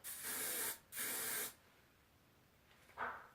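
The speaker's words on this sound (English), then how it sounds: "I'm going to just spray down the hair a little bit on my hairline and pray for the best" Hair spray from an aerosol can misted along a hairline, two long close hisses in quick succession, then a shorter third burst after a pause.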